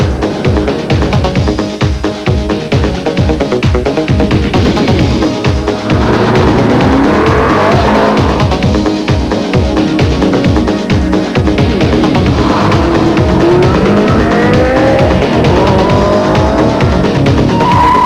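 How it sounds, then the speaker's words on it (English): Sports car with an F1-style gearbox roaring hard as it accelerates past 150 mph, a loud continuous engine note climbing through rapid upshifts with tire squeal, close and sustained with no talking. "Michael Schumacher, listen to the sound of this car."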